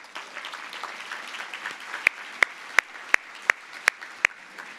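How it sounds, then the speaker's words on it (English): An audience applauds at an awards event for women in technology, a soft spread of clapping with a series of sharp, evenly spaced loud claps close by standing out in the second half. "Let's give them a round of applause."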